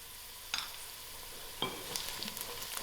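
Lightly browned onions with biryani spice mix fry in a pan, a steady close sizzle broken by two sharp scrape-and-stir bursts, no voices.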